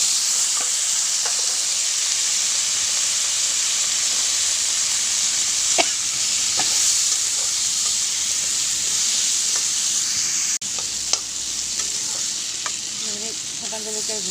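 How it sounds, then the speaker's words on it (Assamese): Cut pumpkin and potatoes go into hot oil and sizzle loudly and steadily, with a few light knocks of a utensil against the pan now and then. "আৰু ইয়াতে কাটি থোৱা ৰঙালাও আৰু আলুখিনি দি দিম এতিয়া।"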